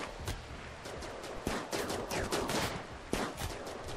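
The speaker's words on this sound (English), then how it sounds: "You guys are shooting." Gunfire during a RimWorld Alpha 13 colony fight rattles through as scattered overlapping shots and short bursts, with a couple of sharper reports standing out, and no voices.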